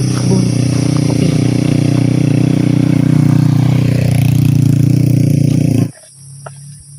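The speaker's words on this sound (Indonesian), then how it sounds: "Ada suara motor, kemungkinan petani ya yang mau" A motorcycle runs steadily on a rocky macadam track up a mountain near coffee gardens, a loud, sustained engine drone close by that cuts off abruptly near the end, leaving quiet background.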